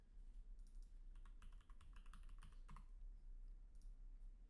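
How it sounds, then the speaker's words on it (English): A computer keyboard clicks out a password in two quick bursts of light, close keystrokes over a steady low hum, with no talking. "Let me write my MetaMask password."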